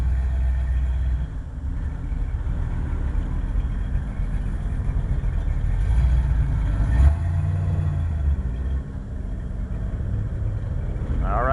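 Race car pulling out of the pits onto a track, a steady engine drone that rises slightly as it accelerates, close and continuous with no talk.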